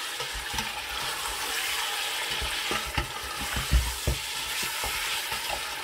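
Mutton for a dum pukht korma fries in a pan, a steady close sizzle broken by scraping stirs and a few knocks of the spoon, with no voices.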